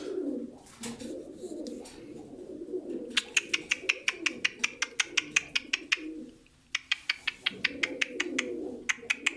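Pet pigeons coo close by in low, throaty bursts, interrupted by rapid, regular trains of sharp clicking, with no one talking.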